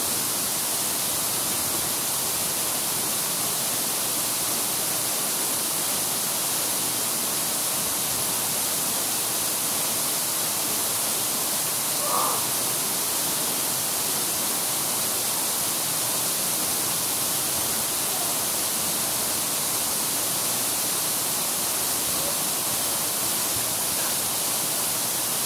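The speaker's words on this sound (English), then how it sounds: "trying to give you guys a little perspective on how big the waterfall is" A big Oahu waterfall roars as a steady, dense wash of falling water, close and loud throughout with no voices.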